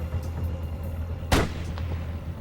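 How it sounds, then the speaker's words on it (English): A single rifle shot fired at a ringed seal on Arctic ice, a loud sharp crack standing out from a steady low wind rumble, with no voices. "The first shot misses."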